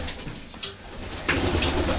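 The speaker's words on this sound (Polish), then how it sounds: "O, tu widzimy gołębie młode." Pigeons coo softly in a low, throaty murmur from a nest with young, over a faint background hum, growing fuller and busier toward the end.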